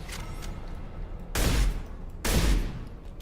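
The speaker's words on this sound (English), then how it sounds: "Scimitar assault shotgun" Two heavy blasts from a Scimitar assault shotgun in Mass Effect 2, spaced about a second apart, each a loud booming burst that fades over a steady game background with no talk.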